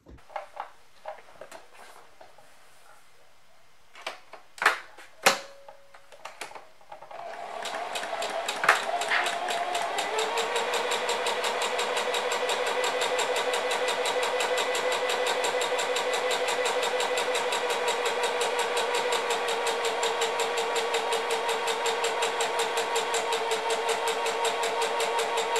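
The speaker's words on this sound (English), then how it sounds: "at 1/4 inch, sew down the sides of the sleeve here" Sewing machine stitching the side seams of a dress sleeve at a quarter inch; a few light clicks and taps, then the motor spins up into a steady, continuous close whir that runs to the end.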